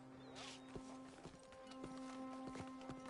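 Horse hooves clip-clop at a walk in Red Dead Redemption 2, a handful of sharp, fairly close hoof strikes spaced irregularly over a steady low hum and faint background music.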